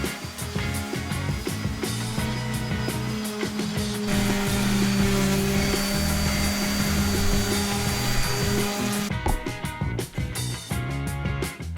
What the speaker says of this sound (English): now I'm just going to go ahead and sand the trim down and then throw a coat of paint on it